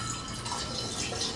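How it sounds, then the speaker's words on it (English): Hydromel mead poured back into a container, a steady liquid trickle and splash running for the whole moment with no voices. "So I'm just going to pour this right back in here."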